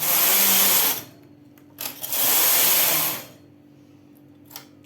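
The carriage of a domestic knitting machine slides across the needle bed while knitting a shawl, making two loud whooshing, rattling passes of about a second each, with a few faint clicks between and after.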